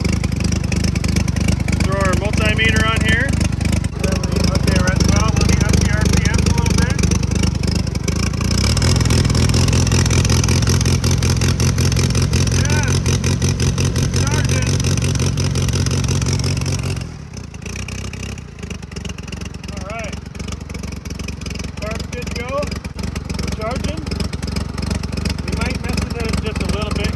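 A 1962 Allis Chalmers dozer engine, long idle, climbs to higher RPM and holds a loud, steady rumble before easing back, with clattering and scraping throughout and someone talking nearby.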